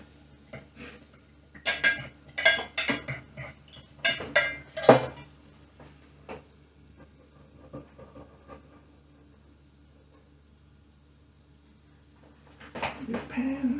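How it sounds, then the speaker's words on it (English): A fork or whisk clinks quickly against a mug while beating an egg, bursts of sharp rhythmic taps close by, then a pause and more clatter at the end. "Give it a whisk."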